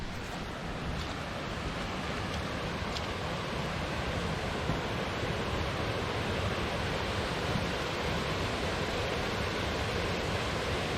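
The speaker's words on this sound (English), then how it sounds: "There you can just sort of see the falls over there." Big Falls roars as a steady, dense rush of water pouring over the falls, a continuous broadband wash heard from nearby with no pauses and no voices.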